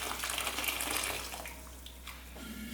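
Boiling water is poured into a large pot to cook basmati onion rice, giving a soft, continuous splashing gush that eases off toward the end.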